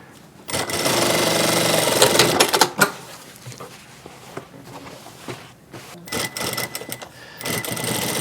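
An industrial sewing machine stitching custom jeans runs in a fast rapid clatter for about two seconds, stops, then follows with shorter bursts of stitching and handling noises close by.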